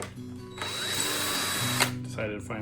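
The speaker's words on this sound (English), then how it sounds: "decided to finally put a Phillips bit in a drill." A power drill fitted with a Phillips bit whines loudly for a little over a second and then stops abruptly, with brief clattering and movement after it.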